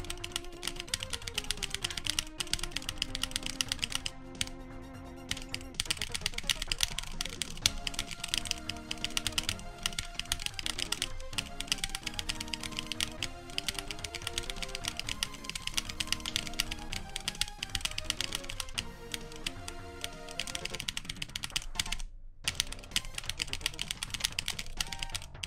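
Dense, continuous clacking of computer keyboard keys tapped rapidly during the rhythm game Etterna, fast streams of keystrokes running under game music throughout, close and busy, with a brief gap near the end.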